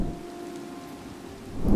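A Minecraft thunderstorm, heard in a game with the Risk of Rain Mobs mod installed: a steady hiss of rain under a low hum, then a deep rumble of thunder swells at the end, with no voices.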